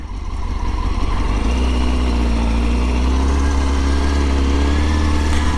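A motorcycle engine runs steadily at a low, even rumble, close and continuous with a faint steady whine on top, with no gear changes or revving audible and no talking over it.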